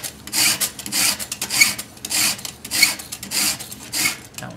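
A saw chain is hand-filed with a Granberg filing jig, heard as a steady series of rhythmic, close, rasping strokes of metal on metal, each lasting a moment with brief pauses between them.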